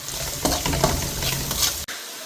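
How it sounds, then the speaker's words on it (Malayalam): Carrot pickle is stirred with salt in a hot pan, giving a close, continuous sizzle with scraping stir strokes for about two seconds before a short dip. "ഉപ്പിട്ടിട്ട് ഒന്നുകൂടി ചെറുതായിട്ട് ഇളക്കാം"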